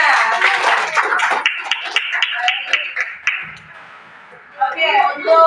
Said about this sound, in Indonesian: Oke, tepuk tangan buat semuanya.